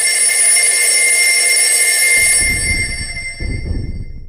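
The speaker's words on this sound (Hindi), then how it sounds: "एक सुबह अनुज के घर उसकी नानी का कॉल आया।" A telephone rings with a bright, steady electronic tone in a horror story scene, cutting off after about two seconds as low rumbling background sound takes over.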